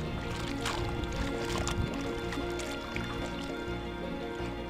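Boat ropes sloshed and squished around in a bucket of plain fresh water without detergent, giving a continuous close wet churning with small drips.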